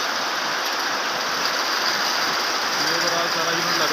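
Rope winding machines run together in a rope-making unit, a steady loud broadband mechanical roar and whir that continues without pause, with faint tonal hum near the end.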